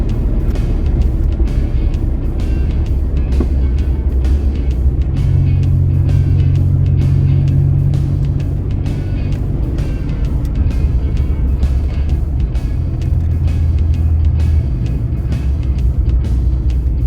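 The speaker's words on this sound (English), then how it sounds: "The 6-cylinder engine spins like a cat." Ford Taunus Coupe fastback with a 6-cylinder engine and worn brakes, a loud continuous engine drone while driving, with a low rumble rising and settling and steady road noise throughout.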